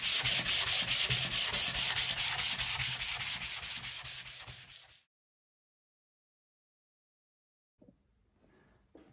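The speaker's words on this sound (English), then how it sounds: "now it's time for sanding with a grit 150" Rhythmic back-and-forth sanding strokes on wood with 150-grit sandpaper, close and loud, about two per second for five seconds, then silence with a few faint rustles.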